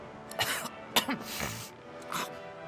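A female character in the fantasy role-playing game Divinity: Original Sin 2 has a short fit of coughing and retching, then sneezes; the bursts are faint and come in three or four quick clusters with nobody speaking.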